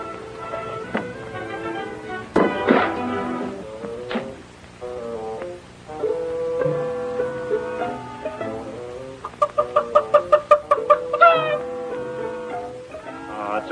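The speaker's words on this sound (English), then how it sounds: "only a chicken" A chicken clucks in a barn, with a run of irregular close clucks and squawks rising into a quick series of sharp, rhythmic calls near the end.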